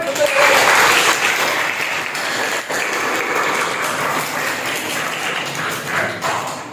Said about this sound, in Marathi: जर तुम्हाला आवडलं असेल तर एक वेळा जोरदार टाळ्या वाजवा.